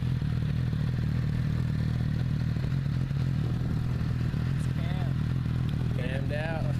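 A sport bike with a chopped exhaust and a cammed engine starts up and idles with a steady, loud mechanical rumble, while people talk and voices sound over it.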